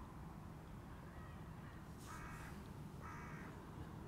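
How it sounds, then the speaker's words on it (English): Crows or ravens cawing far off at a cemetery, two brief harsh calls a second apart, faint over a steady outdoor noise bed. "And we got crows. I'm going to say they're ravens cawing off in the distance."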